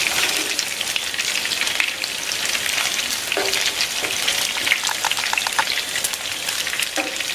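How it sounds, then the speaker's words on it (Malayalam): Chicken pieces deep frying in hot oil, a loud dense crackling hiss that runs without a break, flecked with small pops and spatters throughout. "ഇത് കിടക്കുന്നത് പൊട്ടുന്നുണ്ട്. കൂടുതലും ചിലപ്പോൾ എണ്ണ തെറിക്കാം."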